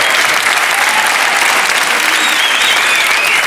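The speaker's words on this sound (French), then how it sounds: "On applaudit Laurent Baffy" Studio audience applauds comedian and impressionist Laurent Baffy on a French TV game show hosted by Patrick Sébastien, with steady, dense clapping throughout and no talking.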